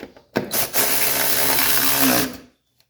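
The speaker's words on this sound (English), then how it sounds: "we'll screw our nut back down there" A power tool spinning a nut back down on a 1983 Mercedes 300TD during servicing, one continuous whirring run of about two seconds, close and loud, starting and stopping abruptly.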